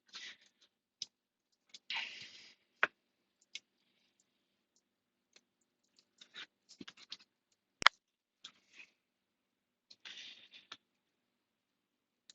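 A knife cutting basa (swai) fish into bite-sized pieces makes sparse, soft clicks and short scraping strokes with quiet gaps between, close up and with no talking.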